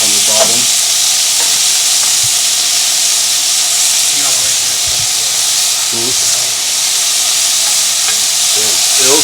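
Chopped chicken breast, about two breasts laid flat in a pan, fries with a loud, steady sizzle and hiss, broken by a few scraping stirs and faint speech under the cooking noise.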